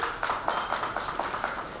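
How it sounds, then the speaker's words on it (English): An audience at a Dhaka tech conference panel claps in a quick, even patter of distinct hand claps from a moderately sized crowd. "A round of applause, ladies and gentlemen."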